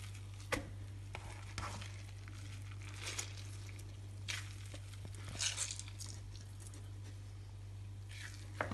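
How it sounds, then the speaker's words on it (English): Grated courgettes squeezed by hand over a bowl to drain them, giving soft wet squelches and brief patters of dripping liquid in uneven bursts, close and fairly quiet over a steady low hum. "get the grated courgettes and drain them"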